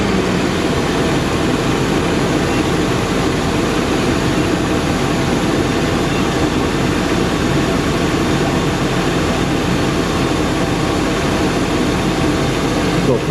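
An RV engine that had trouble starting turns over and settles into a steady, loud, low idling rumble that continues evenly throughout, with faint talk underneath.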